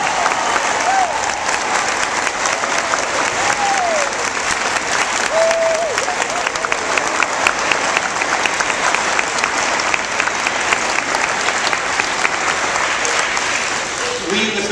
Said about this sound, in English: Let's give a big round of applause to our veterans